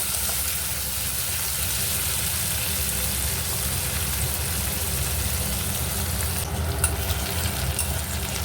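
Chopped onions fry in oil until browning, a dense, even sizzle that crackles continuously and close up without pause, with no talking.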